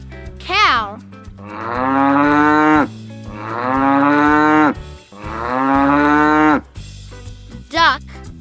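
A cow moos three times in long, drawn-out, loud calls over steady backing music, with brief voice-like sounds at the start and end.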